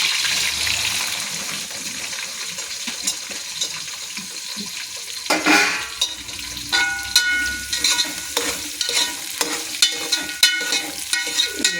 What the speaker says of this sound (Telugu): ఉల్లిపాయలు కొంచెం గోల్డ్ కలర్లో కొంచెం ఎర్రగా వేగాలి